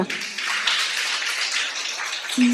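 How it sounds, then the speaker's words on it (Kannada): A church congregation claps together, a dense wash of many hands applauding steadily for a couple of seconds before a voice starts again at the end. "ಶಿಷ್ಯರಿಗೋಸ್ಕರ ಶಬ್ದವಾಗಿ ಚಪ್ಪಾಳೆ ತಟ್ಟೋಣ."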